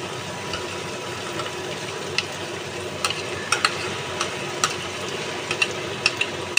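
Ground mustard paste lands in a pan of frying rohu fish, giving a soft continuous sizzle broken by light, irregular clicks and taps of stirring.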